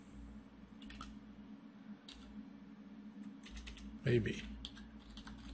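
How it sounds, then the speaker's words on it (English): Computer keyboard typing in short bursts of quick close clicks, with a brief spoken word and a louder thump partway through. "just click in here and type in Merry Christmas"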